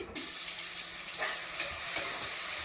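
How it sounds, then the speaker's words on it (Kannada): Sliced onion with biryani masala sizzles in three to four tablespoons of hot oil for a chicken biryani, a steady, close frying hiss with a few soft stirring scrapes and no talking. "ಸ್ವಲ್ಪ ಚೆನ್ನಾಗಿ ಫ್ರೈ ಆಗಲಿ ಫ್ರೈ ಆಗ್ತಾ ಇರಲಿ"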